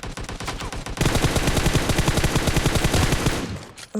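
Fast automatic gunfire in PUBG: rapid, loud, evenly spaced shots in a sustained burst, preceded by quieter distant shots and ending in a brief lull.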